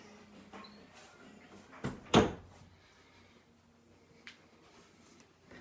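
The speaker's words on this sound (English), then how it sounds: "I gotta close the door." A single solid thump of a door shutting, preceded by a softer knock, in an otherwise quiet room with faint background noise.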